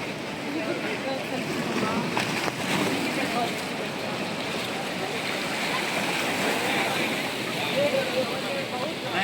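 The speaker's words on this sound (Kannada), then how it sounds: "ಇದೇ ಸಮುದ್ರ ತೀರ" Sea waves washing onto the shore at Dhanushkodi, a steady broadband wash with wind noise on the microphone, continuous and fairly loud, no talk.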